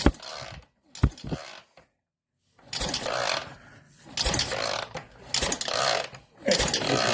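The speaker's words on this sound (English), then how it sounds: "I'm going to give this a good kick over" Kicks on a Triumph Bonneville motorcycle's kick-starter, several separate bursts of mechanical clatter and churning with short gaps and silences between them, close by, the engine not catching.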